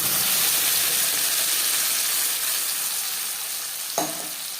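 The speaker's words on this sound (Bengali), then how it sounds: "রিফাইন্ড অয়েল গরম করে নেওয়ার পর দিয়ে দেব মশলার পেস্ট।" Spice paste for ghugni fries in hot refined oil with a loud, dense, continuous sizzle close by, easing off slightly toward the end, with a short stir or clink near the close.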